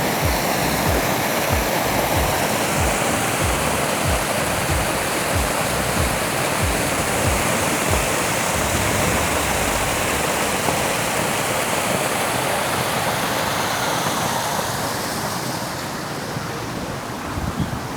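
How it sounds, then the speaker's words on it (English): A waterfall at Disney's Aulani resort in Hawaii roars as a loud, steady rush of falling water that fills the whole stretch, easing slightly near the end, with no voices. "Beautiful waterfall."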